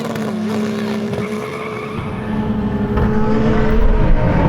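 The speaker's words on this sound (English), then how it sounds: "We're just going to do another drag race to see." A Nissan GTR and a Lamborghini accelerate in a drag race, a loud engine drone that climbs steadily in pitch and builds in volume toward the end.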